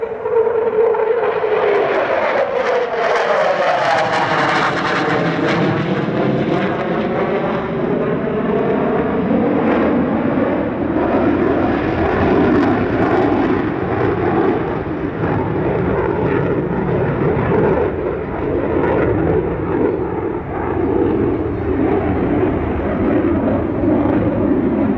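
A Sukhoi Su-30 twin-engine fighter jet roars past at the LIMA Langkawi airshow, a loud sustained jet rumble that sweeps and shifts in pitch as it passes, then holds a steady heavy roar, no voices.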